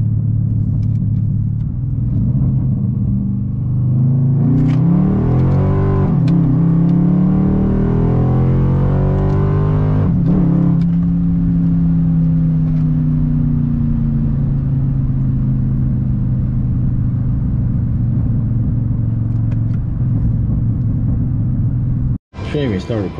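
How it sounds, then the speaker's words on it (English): Dodge Charger SRT8 engine rumbling from inside the car while driving, with a rising rev and a downshift blip around mid-clip, loud and steady throughout, with a voice talking over it. "Ooh, a downshift."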